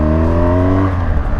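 A BMW R 1200 GS flat-twin motorcycle engine revs close by, a deep, loud harmonic drone that holds steady and then sags as the throttle eases, with no talk over it.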